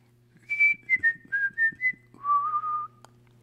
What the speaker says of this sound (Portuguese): E eu quero demonstrar este assobio.